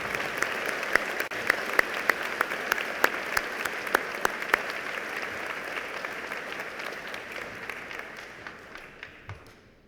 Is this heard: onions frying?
no